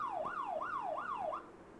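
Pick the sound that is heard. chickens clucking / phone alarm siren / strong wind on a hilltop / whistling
phone alarm siren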